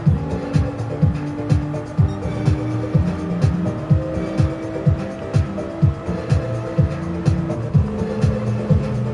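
GR3 race cars racing at Willow Springs in Gran Turismo 7, with a loud, close engine note that rises and drops in a rapid repeating rhythm of upshifts and revs, and tires squealing through corners.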